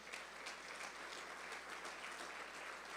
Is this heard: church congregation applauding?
yes